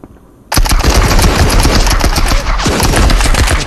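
Sustained automatic gunfire in the shooter game Marauders, a loud, dense burst that starts abruptly and continues as a rapid stream of cracking shots with booming low end.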